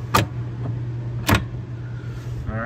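Reversing contactors on an RRVT equipment control panel clack twice with sharp, close mechanical snaps about a second apart over a steady electrical hum, followed by a faint whirring.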